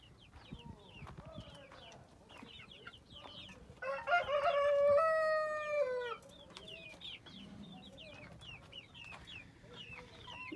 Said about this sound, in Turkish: iki tane horozumuz var